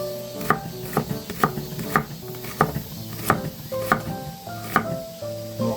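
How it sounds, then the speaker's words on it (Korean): Two onions being sliced with a knife on a cutting board, a close series of crisp, evenly spaced chops at a quick steady rhythm with no talking. "이제 양파 2개 썰어서 넣을 거예요."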